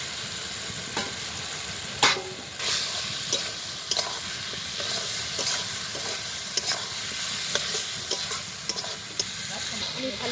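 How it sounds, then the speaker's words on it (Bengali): Potato and cauliflower fry and get stirred in a pan, a steady close sizzle broken by repeated scraping spatula strokes, with no talk. "আমি ভালো করে আলু ফুলকপিটাকে কষিয়ে নেব।"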